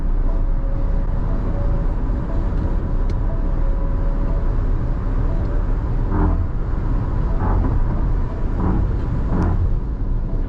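Tata Sierra.ev electric car driving at speed, with steady road and tyre rumble and wind noise filling the cabin and a few faint knocks from the road surface.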